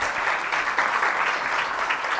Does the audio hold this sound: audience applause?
yes